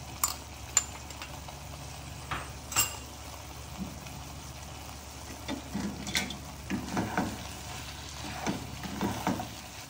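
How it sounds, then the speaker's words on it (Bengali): Chickpeas stirred into a pan of watermelon rind curry, giving soft sizzling with scattered scraping and clinking of a spoon against the pan, quiet and close, with no talk. "1 কাপ কাবুলি ছোলা দিচ্ছি।"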